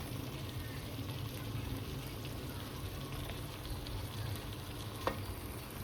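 Sliced pointed gourd is stirred into frying spices in a pan for a spicy katla fish curry, giving a dense, constant sizzle throughout with one sharp click near the end.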